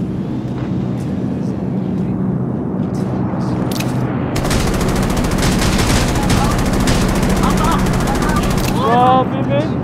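Thompson submachine gun fire in the mobile shooter Rules of Survival, loud sustained rapid bursts in a long continuous stream after a few scattered shots, with overlapping game noise and people talking over it.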